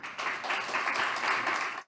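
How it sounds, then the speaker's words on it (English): Audience at a startup demo day event applauds for a presenting team, a short burst of steady, moderately loud clapping that cuts off abruptly after under two seconds. "Warm welcome and big applause for Hydrop Water Systems."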